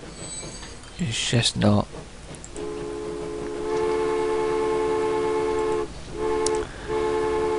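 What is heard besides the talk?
trains running in the video game Transport Fever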